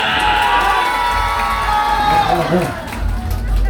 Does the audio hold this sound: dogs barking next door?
no